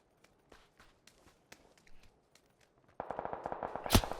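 Gunfire in the battle royale game PUBG: scattered faint shots and footstep-like taps, then a dense rapid burst of loud automatic fire in the final second, with no talk.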